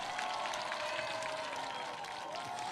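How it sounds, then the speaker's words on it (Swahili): Crowd at a political rally in Garissa clapping and cheering, a continuous patter of many hands over a faint murmur of voices, steady and moderately distant throughout the short burst. "Wapi makofi jamani?"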